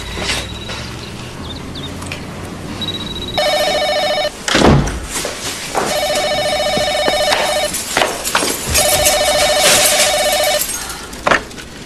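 An old-style telephone rings loudly in a 1995 film scene. Three repeated bell bursts are separated by short gaps and a few dull thuds, with no voices heard.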